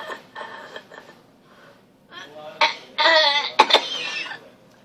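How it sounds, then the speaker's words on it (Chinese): A person undergoing swallowing rehabilitation after choking on water gives a few weak coughs on request, close by, in short bursts with pauses between. "嗯，咳嗽咳嗽。"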